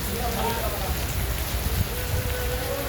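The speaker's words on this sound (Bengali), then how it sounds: "আবার বৃষ্টি নেমেছে, ব্যাপক বৃষ্টি, ঝড়ের বাতাস অবশ্য নেই, কিন্তু বৃষ্টি কিন্তু হচ্ছে, ব্যাপক অনেক বৃষ্টি।" Heavy rain falls steadily at the Barishal launch ghat on the riverbank, a thick continuous patter and hiss of drops hitting surfaces nearby, loud and unbroken throughout.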